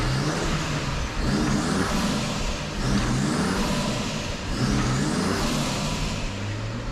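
A car engine revs hard on a dyno in repeated surges, rising and falling with clutch kicks and handbrake pulls during drift testing, loud and close with no voices.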